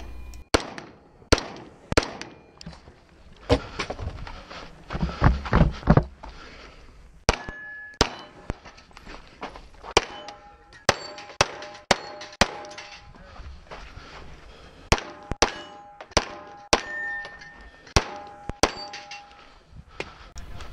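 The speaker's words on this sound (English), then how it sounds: "The stage started with an array of rifle steel that had to be engaged from 2 positions." Rifle shots striking steel targets at a 3-gun match stage in the Superstition Mountains, engaged from two positions: sharp reports with ringing metallic clangs, fired in quick bursts and spaced pairs over about twenty seconds.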